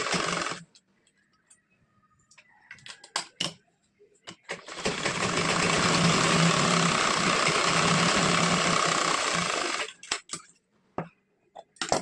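A sewing machine stitches along a half-inch fold of blouse fabric in one long, steady, whirring run of several seconds, close and fairly loud, with short clicks and handling taps before and after.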